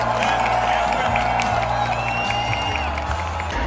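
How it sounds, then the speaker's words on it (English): A large crowd at the NFL Draft in Green Bay applauds and cheers for newly enlisted service men and women, a loud continuous roar of clapping and whoops. "One more big round of applause for our newest service men and women."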